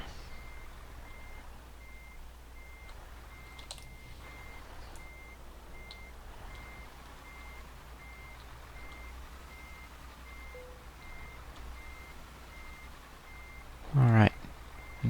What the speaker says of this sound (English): let's back up the truck